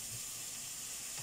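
Onion and mushrooms frying in a pan give off a soft, steady sizzle and hiss, quiet and continuous, with no talk over it.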